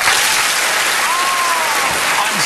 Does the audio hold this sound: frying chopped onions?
no